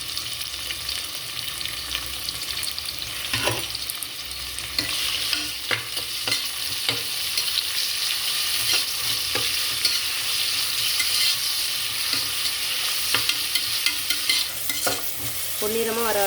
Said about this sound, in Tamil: பொன்னிறமாக வர வரைக்கும் நல்லா வதக்கிக்கலாம்.